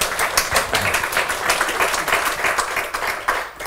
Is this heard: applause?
yes